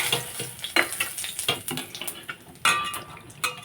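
White cumin and bay leaf sizzle in hot oil left over from frying fish, crackling up close, while a pan and utensil clatter and knock in short, irregular bursts, with no one speaking.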